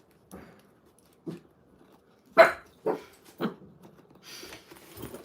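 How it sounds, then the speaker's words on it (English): A dog barks in several sharp, separate bursts spread across a few seconds, close and fairly loud in a quiet room, with a faint whimper or yip between barks. "Don't bark."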